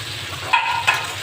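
Chopped carrots and bean pieces hit a pan of lightly fried cauliflower with a steady close sizzle, broken by two quick bright scrapes of stirring.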